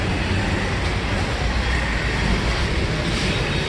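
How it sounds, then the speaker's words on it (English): Dense, steady roar of a traffic jam on a street in Kathmandu, Nepal, continuous engine and road noise with no distinct events, fairly loud and close. "Typical traffic jam."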